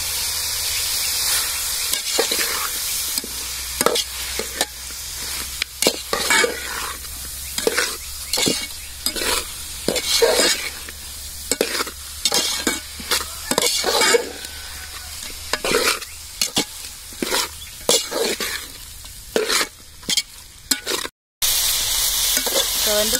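Country chicken with turmeric sautés in a pan, with a steady sizzle under repeated rhythmic scraping and clinking stirs of a spoon, close and fairly loud, and no talking.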